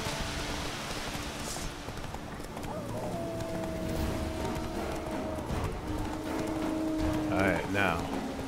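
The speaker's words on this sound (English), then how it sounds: "And back on our horse." Horse hooves galloping in The Witcher 3, a steady rapid clip-clop running under game ambience, with a whinny and a few other game sounds, and a voice speaking faintly.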